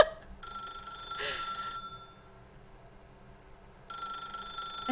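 A telephone rings in The Stanley Parable video game, loud electronic ring bursts starting and stopping with a quiet gap between, alone without talk.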